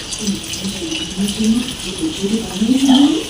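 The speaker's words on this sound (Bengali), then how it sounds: "আর টাইম কলের জলও চলে এসছে জল পড়ছে ওখানে" Water runs from a timed municipal tap at a village home, a steady hiss and splash in the background while a person talks over it.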